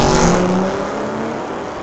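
A 2009 Dodge Challenger and a Corvette drag race on a street-legal drag strip. A loud, steady engine roar fills the track at close range and eases slightly as the cars pull away.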